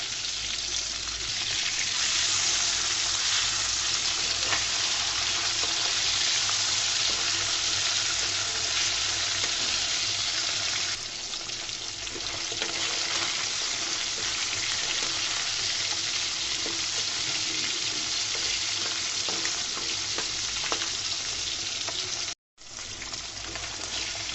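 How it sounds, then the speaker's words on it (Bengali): Fish frying in hot oil for a Bengali fish curry, a steady loud sizzle with crackling pops throughout, briefly cutting out near the end before resuming. "মাছটাকে আমি ভেজে নিচ্ছি"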